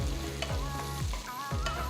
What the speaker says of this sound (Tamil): 2 பச்சை மிளகாய் பொடியை நறுக்கினது, கொஞ்சமாக கருவேப்பிலை சேர்த்து நல்லா வதக்குங்க.